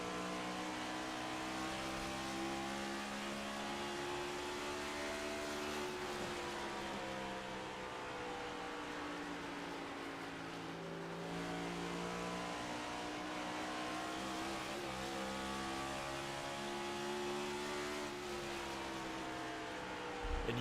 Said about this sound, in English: you can hear those bumps off of turn number 2, those RPMs spiking up on these race cars